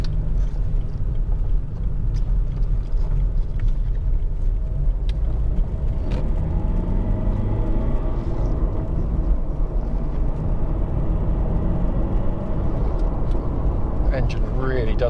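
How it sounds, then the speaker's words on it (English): A 2007 Lexus IS 220d 2.2 diesel saloon pulls hard through its gears, with a low engine drone rising and falling between shifts beneath ongoing road and cabin noise while someone talks over it. "Engine really does pick up well,"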